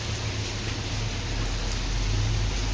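Steady rain falls on the Narayanagiri hills, a dense, even hiss of drops on surfaces that holds at a constant, fairly loud level throughout with no voices.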